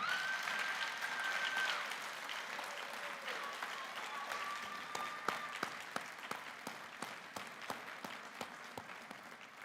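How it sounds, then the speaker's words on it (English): Another round of applause from the audience at a state police graduation ceremony, dense clapping at first that thins into scattered individual claps toward the end, moderately distant. "let's give them another round of applause for that"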